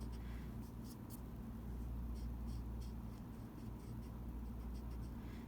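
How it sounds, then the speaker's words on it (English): Pencil working on paper while excess pencil lines are erased: a steady, soft scratchy rubbing continues throughout, with faint light ticks scattered on top and no talking. "I'm actually gonna come back in with my pencil and I'm gonna erase some of those"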